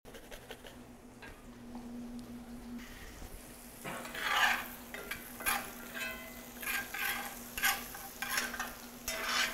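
Moist food sizzling and spitting vigorously in hot oil, with stirring scrapes; a steady crackle that grows louder and busier midway and keeps bursting in close, irregular pops.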